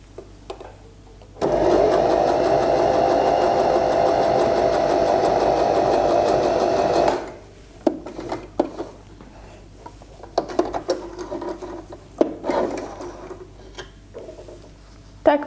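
Juno by Janome J15R sewing machine running a straight stitch, a steady continuous mechanical whir lasting about six seconds, close and loud, then stopping and giving way to quieter handling noises.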